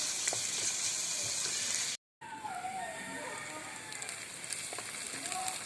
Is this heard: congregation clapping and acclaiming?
no